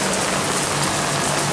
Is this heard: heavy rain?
yes